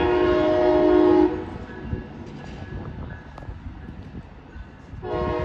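Amtrak Midwest passenger train led by a Charger locomotive crossing jointed rail near a diamond: a loud horn blast opens, then a steady rolling rumble with scattered wheel clacks as the train passes close by.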